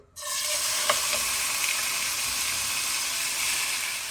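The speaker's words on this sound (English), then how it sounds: "Now to my heated up oil, I'll add in my lamb shank." A lamb shank hits hot oil in a pan for a Fijian soy-sauce braise, setting off a loud, steady sizzle right at the start that stays dense and even throughout, with a brief spatter pop near the beginning.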